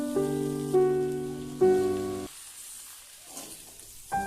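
Chopped tomato dropped into a pan of frying spices with beans, radish, eggplant and potato gives a soft, steady sizzle and crackle. Sustained tonal music plays over the first half, and the sizzle comes through more clearly after it stops.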